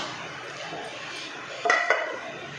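A kadai pan is set down on a stove, giving two quick metallic clanks close by against a quiet kitchen background, with no talking.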